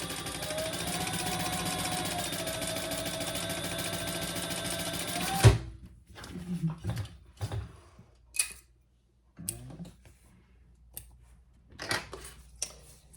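A sewing machine stitches a fabric wristlet panel with a steady, close whir for about five seconds, then stops, leaving scattered clicks and handling knocks.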